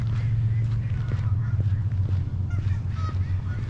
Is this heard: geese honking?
yes